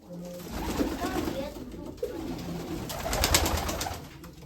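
Pigeons kept in a loft in Tsarychanka, Ukraine, cooing and calling steadily at close range amid rustling and background noise, with a soft burst of movement near the end.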